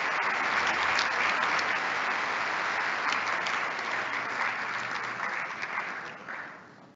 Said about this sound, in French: j'aimerais qu'on applaudisse très fortement Ryan et Jessica